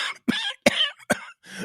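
Four sharp coughs in quick succession, close and loud with short gaps between them, followed by a softer breathy throat sound.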